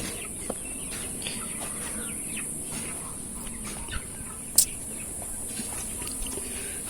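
Sonali chickens cluck softly in a fanless farm shed, heard faintly and at a distance. Occasional sharper calls stand out over a steady background hiss.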